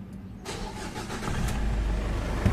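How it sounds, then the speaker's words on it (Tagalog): After a brief pause, a Ford Everest engine with oil blow-by and smoke from the oil filler cap cranks and catches, then settles into a steady, close idle rumble. "Start ko na itong makina."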